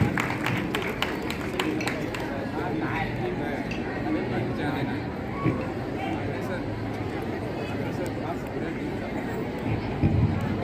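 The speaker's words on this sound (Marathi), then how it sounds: "एकदा जोरदार टाळ्या विद्यार्थ्यांना." Applause for students at a Republic Day school function fills the space as a steady patter of many hands clapping, mixed with crowd chatter and voices throughout.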